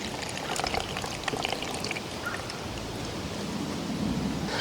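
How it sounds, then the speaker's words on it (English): Black walnut tincture pours and trickles through a fine mesh strainer in a soft, continuous stream, steady and close with slight splashing variations. "I'm going to strain it using this handy dandy fine mesh here"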